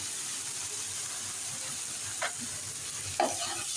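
Three kinds of dal being stirred as they sauté in a pan, salt just added: a continuous hiss of frying with two short scraping strokes of the spoon, close and with no one speaking.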